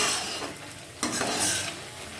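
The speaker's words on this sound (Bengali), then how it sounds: "খুব ভালো করে মশলাটা কষিয়ে নিতে হবে।" Spice masala frying in a pan for an eggless egg curry, a spatula scraping and stirring through the sizzling paste with a sharp scrape midway.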